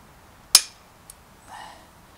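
A single sharp metallic strike of a centre punch marking metal for a bicycle disc brake adapter, followed by a faint tap and a brief scrape, quiet surroundings.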